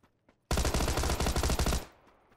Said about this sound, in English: This guy's going off with his Tommy gun.